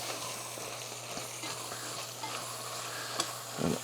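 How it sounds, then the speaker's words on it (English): Chopped jalapenos are stirred into a sizzling brisket, shrimp and sausage gumbo pot, a steady faint frying hiss with soft stirring scrapes and a small clatter near the end, close and with no voices. "And I'm gonna dump them in, and let's stir them in."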